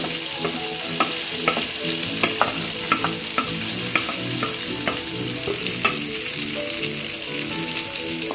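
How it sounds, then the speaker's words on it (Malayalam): Ginger fries in a pan for a papaya and apple pickle, a loud continuous sizzle with rhythmic scraping and tapping of a stirring spoon, no one talking. "നമുക്കൊന്ന് ഇളക്കി കൊടുക്കാം."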